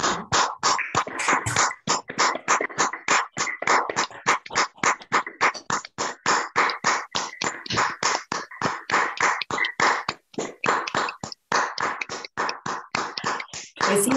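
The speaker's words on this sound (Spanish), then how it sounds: "Se suman, se suman rostros y se suman palmadas de agradecimiento, Mercedes." Scattered hands clap through open microphones from an online audience at a book presentation, a dense run of sharp, uneven claps lasting the whole stretch, fairly close and a little clipped, with no speech.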